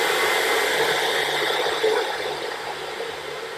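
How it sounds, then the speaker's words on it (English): Hair dryer fitted with a diffuser blowing a steady, loud rushing airflow while drying hair during a wash day routine, with a slight drop in level toward the end. "I take my diffuser, I start from the bottom here, I go upward, and then I diffuse"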